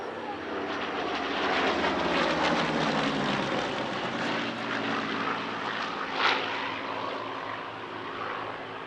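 A Spitfire Mk.V, EE602, propeller fighter performs an airshow display at Shuttleworth, its piston engine growl swelling and fading as it passes, loud and sustained with shifting pitch.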